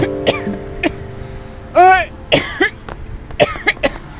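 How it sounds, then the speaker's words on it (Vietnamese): A woman coughs several times in short, harsh bursts, with a throat-clearing sound among them, close by in an indoor scene from a Vietnamese drama, with brief voices around. "Bà ho cái gì hả?"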